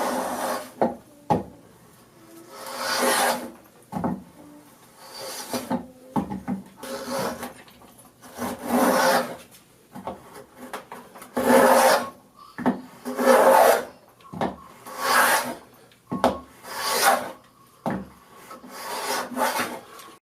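A Stanley 55 hand plane cuts a bead along the corner of a wooden beam in repeated rasping strokes, each pass a scraping shave with short pauses and light knocks between, close and fairly loud with no talk.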